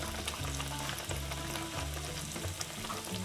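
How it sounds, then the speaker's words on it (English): Fry bread dough frying in a pan of hot oil for homestead family recipes, a steady close sizzle with faint crackle, alone and without talk. "And you're just going to fry it on each side until they're golden brown."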